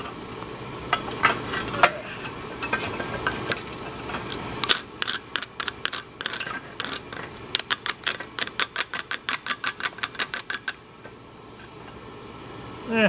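Chipping hammer knocking slag off a fresh weld on a 4WD Daytona body mount, a rapid series of sharp metallic taps that grows denser and more rhythmic midway, close and loud with no talking.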